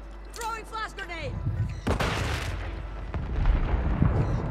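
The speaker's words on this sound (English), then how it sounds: "Throwing flash grenade." Flash grenade thrown and bursting amid continuous gunfire and booms in a shooter video game, with a broadband blast near the middle followed by sustained loud firing, and a voice speaking briefly at the start.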